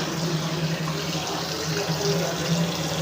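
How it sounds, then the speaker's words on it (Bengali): Water from a running tap pours steadily into a sink while hands are washed with hand wash, producing a constant, close hiss and splatter with no break and no speech. "রোগ জীবাণু সব দূর হয়ে যায় বুঝেছো এই জন্য হ্যান্ড ওয়াশ দিয়ে হাত ধুতে হয়"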